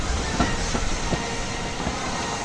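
Steady rumbling of a moving train with faint rhythmic clacks of wheels on the track, continuous and fairly loud throughout.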